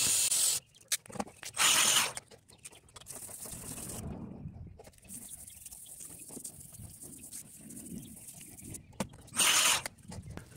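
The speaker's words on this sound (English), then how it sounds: "get down to some spraying." A spray can lays clear coat onto a car headlight in short hissing bursts, near and fairly faint, separated by quieter stretches of low handling noise.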